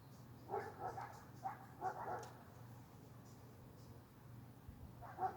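Several dogs bark in short bursts at a moderate distance, with gaps between volleys and a low steady hum underneath.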